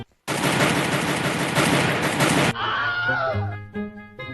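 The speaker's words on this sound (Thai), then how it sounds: "เขาได้จกปืนสั้นอันยาวเหยียดของเขาออกมา ยิงไปหนึ่งนัด" A pistol fired at a bird in a tree, heard as a loud, sustained burst of harsh noise that gives way to a strange squealing, warbling tail.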